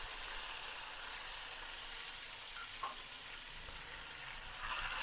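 Onions, tomatoes and ginger-garlic paste sizzle softly in a pan over a low flame while being stirred, a faint steady frying hiss with an occasional scrape of the spoon.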